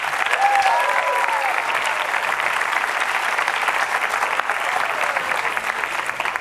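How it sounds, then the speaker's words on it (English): Sustained applause from an audience at a high school awards ceremony, a dense steady wash of clapping filling the whole stretch, loud and close, with faint voices calling out among it. "let's give the high school and everyone representing the high school a big round of applause for that"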